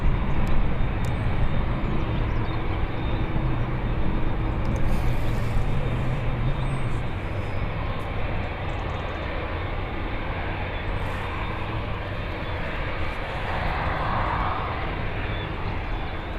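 An airliner takes off at Birmingham Airport, its engines producing a broad, loud, sustained roar and rumble that holds steady throughout, heard from the airfield outdoors.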